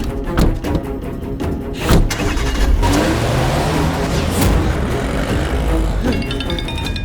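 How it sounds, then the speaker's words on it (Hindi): A car engine hums steadily with road and cabin noise, a few brief knocks near the start, continuous and fairly loud throughout. "नहीं रैम्बो, ड्राइविंग करते वक्त गाड़ी में फोन उठाना गलत है।"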